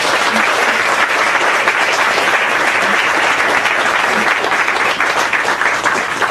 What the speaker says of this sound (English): Please give Diana Gabaldon a round of applause.